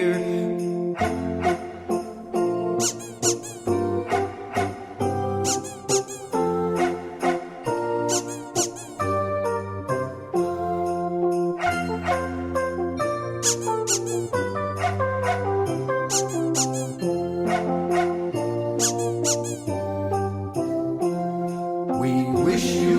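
Squeaky toy sounds carry a Christmas melody, with rhythmic pitched squeaks forming the tune over a steady accompaniment and occasional jingling bells, loud and close for the whole stretch, with no talking.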